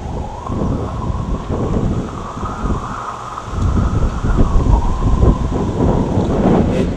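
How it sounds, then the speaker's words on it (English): Strong wind roars and gusts loudly against the microphone as a tornado forms overhead, a continuous rushing that swells stronger partway through, with a high wailing tone running above it. "Hear the wind picking up?"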